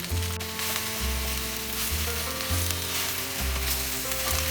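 Malabar spinach leaves sizzle and are stirred in a pan with shrimp, producing a steady, moderately loud frying hiss over a low, tonal musical background.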